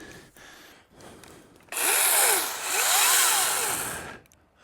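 A power saw cuts into a tree, its motor rising to a loud, close whine that dips and swells twice as it bites, then cuts off abruptly.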